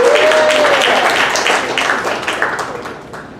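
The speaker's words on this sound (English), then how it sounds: "please give Alyssa a round of applause" Press conference audience at a Vietnamese festival breaks into steady applause that gradually fades, with a brief tonal squeal at the start.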